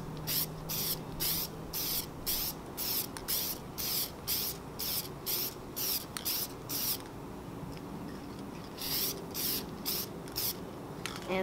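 Spray paint hissing onto a Team Associated B6 RC car body in short, evenly spaced bursts, close and steady, with brief pauses between passes.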